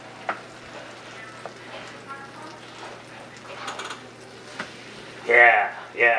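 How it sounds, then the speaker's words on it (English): Soft sizzle of French toast frying in a pan, a steady crackling bed with occasional utensil clinks, and a voice speaking briefly near the end. "You hear the sizzle."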